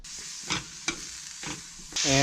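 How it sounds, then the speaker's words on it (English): Close-up sizzling of vegetables in a hot pan, with soft scraping stirs every half second or so over a constant frying crackle. "we got our vegetables frying up"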